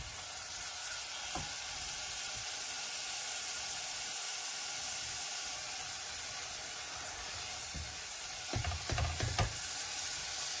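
Spiced masala sizzles steadily in hot oil, a continuous close hiss with a few soft stirring scrapes near the end.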